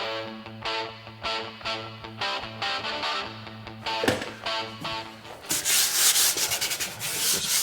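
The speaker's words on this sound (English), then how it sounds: "I'm just going to do a little sand to get any schmutz off the top." Hand sanding on a painted wooden window sill gives close, rhythmic scratchy rubbing strokes that grow harsher and denser toward the end.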